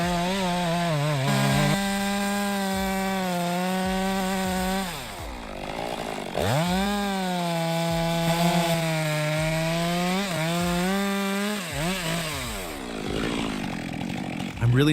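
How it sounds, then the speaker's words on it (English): A Stihl MS462 chainsaw cuts through thick logs while processing firewood, its engine holding a loud, steady whine that dips and recovers in pitch several times as the bar bogs into the wood. "I'm really impressed by how smooth and fast the Stihl MS462 cuts."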